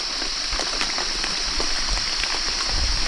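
Steady rain falls and patters on surfaces nearby, a dense, continuous hiss with scattered drop impacts throughout, no voices present.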